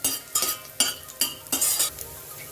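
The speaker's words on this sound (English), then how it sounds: "When oil gets heated, add chopped green chilies and cook it for a while." Chopped green chilies fry in about two tablespoons of hot oil, a close sizzle broken by four or five sharp spatula strokes and stirring scrapes against the pan, with no talking.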